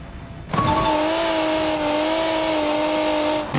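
An Audi in the driving game BeamNG.drive, its engine kicking in abruptly and holding a steady, bright tonal whine at high revs for a few seconds before dropping off.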